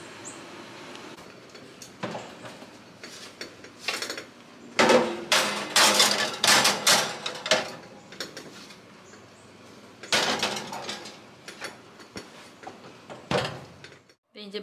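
A baking dish is set into a home oven, with clattering knocks and scrapes of dish and rack coming in irregular bursts close by, between quieter stretches of kitchen handling.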